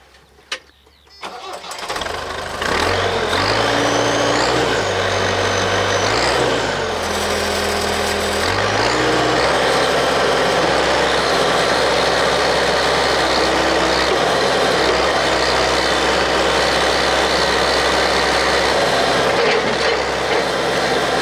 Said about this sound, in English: this Perkins phaser engine makes this machine. Whatever I've said about it, the engine is just beautiful.